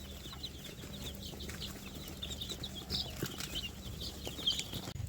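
Young Sonali chickens about ten days old, in a warm brooder on a chicken farm, give faint, steady high chirps and soft clucks against a low hum, with no talking.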